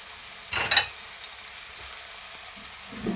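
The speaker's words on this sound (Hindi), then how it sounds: "एक साइड पे हमारे करेले अभी फ्राई हो रहे हैं" Bitter gourds (karela) frying in a pan on low heat, giving a soft, steady sizzle with a brief louder stir or clatter near the start, no voices.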